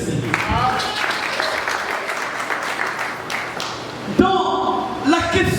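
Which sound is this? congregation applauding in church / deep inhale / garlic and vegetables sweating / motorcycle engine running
congregation applauding in church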